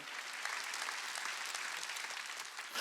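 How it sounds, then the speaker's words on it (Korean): A church congregation applauds during a Sunday worship sermon: dense, even clapping from many hands, sustained and somewhat distant, with no voices over it. "박수."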